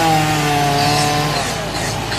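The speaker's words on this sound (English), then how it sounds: "Sorry for the noise, but it is a chainsaw competition" A loud, nearby chainsaw roars steadily as it carves wood at a chainsaw carving competition, its engine pitch dipping slightly under load, with no speech.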